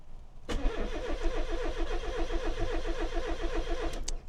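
A Rover Metro car engine cranks over and over in a fast rhythmic churn for several seconds without catching, then stops abruptly.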